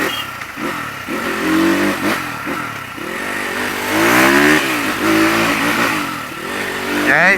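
Suzuki RM250 dirt bike engine revving near the microphone, its two-stroke pitch rising and falling in several repeated throttle blips over a steady idle.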